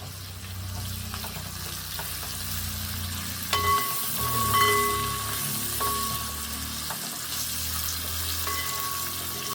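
Garlic and chopped green chillies frying in oil for a fish pickle, a steady close sizzle. Around the middle it briefly flares as the chillies go in, and a few light utensil clinks follow, with no voices.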